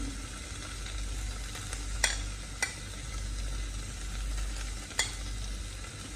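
Cooked elephant yam mixed with coconut paste in a pan during Onam sadya cooking, giving a quiet scraping stir under low steady noise, with three sharp spoon clicks against the pan.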